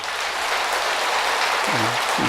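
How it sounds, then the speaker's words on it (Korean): Steady, dense applause from an audience fills a temple dharma service hall at Tongdosa, a continuous clatter of clapping hands at moderate distance, with a brief low murmur near the end. "또 그분들에게도 박수 한번 보내주세요."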